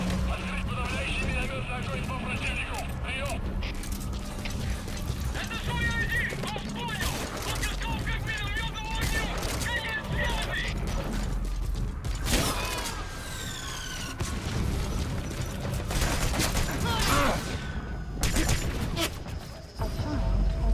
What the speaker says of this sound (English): Crap, they're shooting the target.